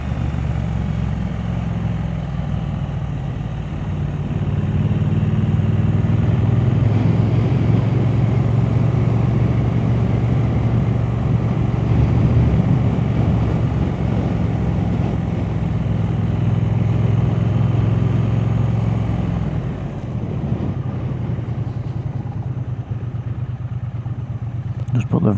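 Motorcycle riding along the country roads of Wyresdale and the Trough of Bowland, a steady engine drone with wind rush close up, holding for most of the ride and easing slightly near the end.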